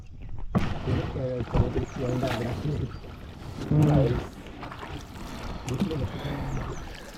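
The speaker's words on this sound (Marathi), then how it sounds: "आता होडी मारत मारत आपल्याला ना वरती तिकडे जायचं एकदम वरती" Oars splash and knock against a new wooden fishing boat in an irregular rhythm while people talk nearby over the open water.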